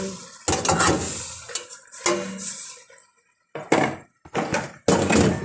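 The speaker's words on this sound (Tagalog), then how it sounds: "Haluin lang natin ng mabuti" Food is stirred in a cooking pan, with irregular bursts of metal scraping and clanking close by, separated by short pauses, over a light sizzle.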